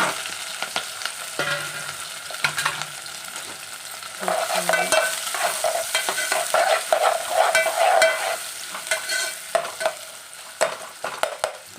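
Onions and green chillies frying in hot oil with cloves, a continuous close sizzle broken by stirring clatter, growing busier partway through, no voices.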